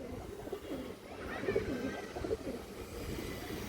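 Pet pigeons of an old breeding line, kept among female birds, coo steadily and close by, their soft low throaty calls overlapping in a continuous rolling murmur with no talking.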